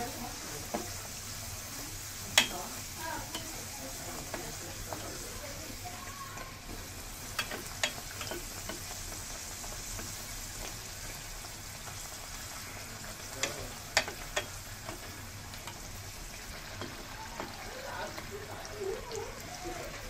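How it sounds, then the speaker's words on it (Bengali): A puri sizzles in hot oil, a quiet continuous bubbling hiss dotted with sharp crackles and pops throughout. "আমার তেলটা গরম হয়ে গিয়েছে এবার আমি এটাতে আস্তে করে পুরিটা ছেড়ে দেবো"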